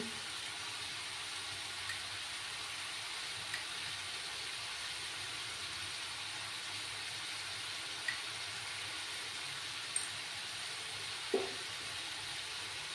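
Vegetables, eggs and spices with salt fry in a pan over a gas flame, giving a steady, faint sizzling hiss broken by a few soft clicks of stirring.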